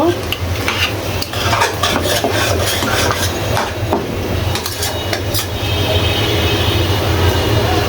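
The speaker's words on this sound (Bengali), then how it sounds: "মাংসটা আমার কষানো হয়ে গিয়েছে, আমি এখন সিদ্ধ হওয়ার জন্য পানি দিয়ে দেব।" Braised meat in a pan is stirred with a rough, rasping scrape over loud continuous sizzling, the frying hiss steady and close throughout with repeated scraping strokes and no clear pour.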